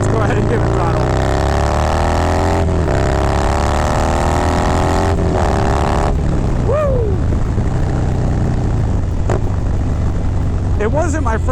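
A Harley-Davidson Milwaukee 8 motorcycle engine with an aggressive cam and aftermarket exhaust revs loud and close, pitch climbing and dropping across several throttle blips over a steady rumbling idle.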